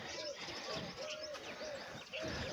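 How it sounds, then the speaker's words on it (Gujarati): Pigeons coo in a repeated rhythmic series from a rooftop breeding setup, soft and close, over a steady background hiss. "ગાઈસ કબૂતર આપણા બેસી ગયા"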